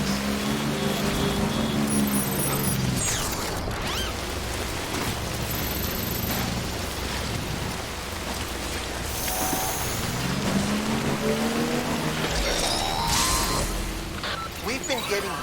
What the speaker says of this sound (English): We've been getting near constant timefall in this region for a while now.